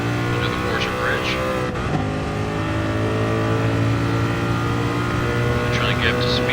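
A race car engine holds a loud, steady drone at full throttle in fourth gear on a racing lap, with a brief dip near the start; someone talks over the engine noise throughout.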